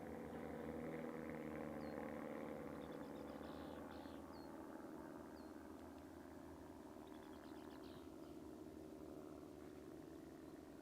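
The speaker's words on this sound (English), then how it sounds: "Got some planes flying overhead." Aircraft drone faintly overhead outdoors, a low steady engine rumble filling the background continuously while occasional faint bird chirps come through.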